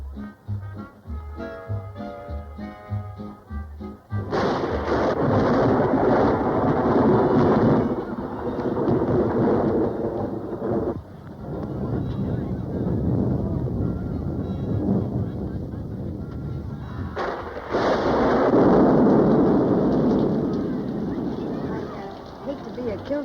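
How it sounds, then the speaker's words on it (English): Heavy rain with rolling thunder from an old film soundtrack, a loud broadband roar swelling after a quieter opening, with rumbling surges and wind-like gusts; voices can be heard early on. "But I think it's raining."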